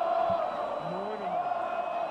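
A large football crowd in a Spanish stadium chants at Vinícius Júnior, a dense, droning chant that holds steady throughout, with a single voice rising briefly above it.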